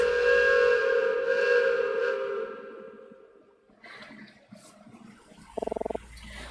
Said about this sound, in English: I knew train whistles were loud, but that was completely deafening